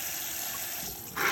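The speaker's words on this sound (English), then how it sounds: "So our bird here is just, taking a shower." Running water rinses a raw bird in a kitchen, a steady close hiss of flowing liquid that grows louder and splashier toward the end.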